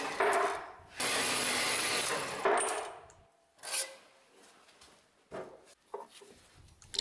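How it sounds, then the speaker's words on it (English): Pipe pieces being cut off to make homemade washers for a sawmill blade tensioner, with loud harsh cutting bursts up close at the start, then scattered clinks and knocks of metal pieces. "And now to just cut these guys off, and I'll end up with washers."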